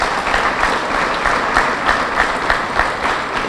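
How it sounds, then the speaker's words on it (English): Audience applause at a fire station ribbon cutting ceremony in Costa Mesa, a steady wash of many hands clapping that holds evenly for a few seconds with no voices over it. "give that, clap for that."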